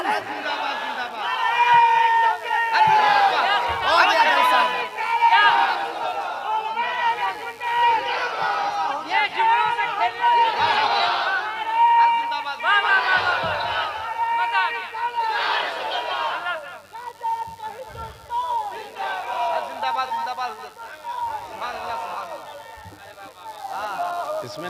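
Religious gathering at a Tahreek-e-Raza conference, where a large crowd chants loudly in repeated rhythmic waves in answer to a Naara-e-Takbeer call, voices swelling and falling together.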